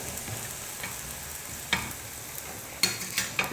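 Sweet wheat-flour poli frying in ghee on a pan, with a steady soft sizzle and a few sharp crackles and pops breaking through near the end, no voices.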